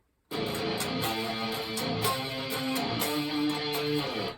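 A slow electric guitar riff, notes picked one by one with sustained distortion, loud and close after a short silence.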